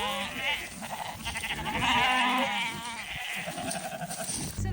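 Sheep bleat several times in a farmyard, wavering calls close by, mixed with a person talking nearby.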